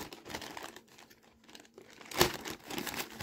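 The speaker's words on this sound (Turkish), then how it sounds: "Şimdi ben bu paketi açayım." A shipping package from an online order being opened up close, with irregular crinkling and rustling of plastic wrap and one sharp tearing crunch partway through, fairly quiet and without speech.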